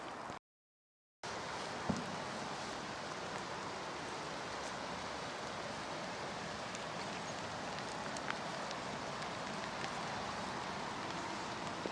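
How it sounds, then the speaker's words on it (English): Heavy rain falls steadily beside the Rochdale Canal, a dense, even hiss of constant spatter with occasional louder drops close by. "It's raining really heavy now, and I'm getting it all over the lens"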